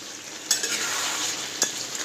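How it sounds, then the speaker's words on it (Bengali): Chicken kosha with potatoes and papaya being stir-fried in a pan, a steady close sizzle of frying with a couple of sharp spatula scrapes against the metal. "গ্যাস কমিয়ে কমিয়ে কষাবো, তাহলে আলুগুলো সিদ্ধ হবে না"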